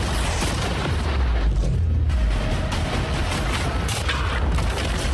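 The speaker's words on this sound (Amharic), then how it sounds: "አሁን መድፎቹን ልንተኩስ ነው።" Barrage of cannon fire aimed at a wall: dense, heavy booms and rumbling blasts that overlap continuously at high volume.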